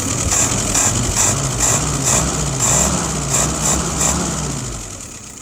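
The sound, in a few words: engine idling while warming up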